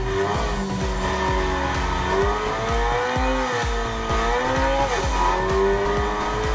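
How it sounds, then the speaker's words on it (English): A Subaru BRZ with a turbo in Gran Turismo 6 screams through repeated upshifts and downshifts while tires squeal and skid in sweeping bursts, the engine pitch rising and falling loudly and continuously. "you can hear the turbo from outside."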